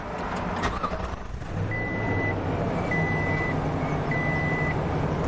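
A 2020 Toyota Sequoia Limited SUV starts up by push button, its engine turning over and settling into a steady idle while several electronic chime tones sound over the running engine.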